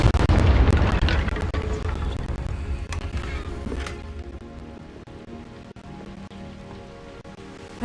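Confringo explosive spell in the video game Hogwarts Legacy: a loud booming blast opens, followed by a long crackling, debris-like rumble that slowly fades.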